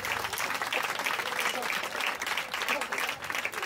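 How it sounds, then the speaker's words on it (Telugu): A church congregation claps together in a steady, dense burst of applause that fills the room at moderate loudness, continuing without pause and without voices over it. "సంతోషంగా ఉన్న వాళ్ళు ఒకసారి చిరునవ్వుతో చప్పట్లు కొట్టండి"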